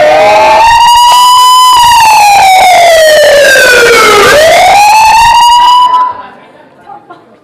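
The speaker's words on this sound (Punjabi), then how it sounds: "ਤੁਹਾਡਾ ਐਂਬੂਲੈਂਸ ਲੰਗੀ ਆ" A loud ambulance siren sound effect in a Punjabi stage comedy drama, one long wailing tone that falls and rises again before cutting off abruptly.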